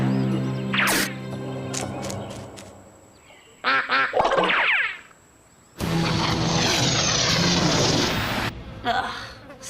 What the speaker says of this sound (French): c'est la première fois que je vois un canard détalé